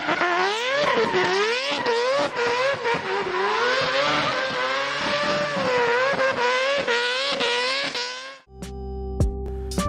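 A rotary-engined drift car roars loudly at high revs, its note rising and falling with sharp throttle blips for about eight seconds before cutting abruptly into quieter mechanical clatter.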